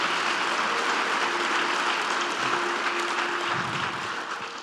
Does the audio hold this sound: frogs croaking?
no